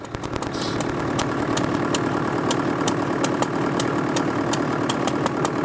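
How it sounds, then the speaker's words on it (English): A vintage Ferguson T20 tractor engine drives a small circular saw bench at a farm machinery show, a steady, loud mechanical chugging hum with regular sharp ticks running throughout, no talking. "the smaller circular saw bench driven by a little T20 Ferguson there to saw the wood into sizable pieces"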